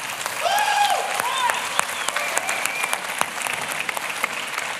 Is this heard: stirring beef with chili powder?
no